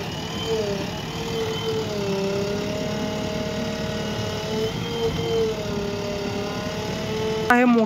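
A JCB 3DX backhoe loader's diesel engine runs steadily on farmland, a close, continuous drone with slowly shifting pitch as the load changes, then a brief sharper burst at the very end.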